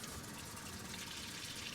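Water rushes steadily from a tap fed by a tankless water heater installed in an RV, a faint, continuous hiss with no voices.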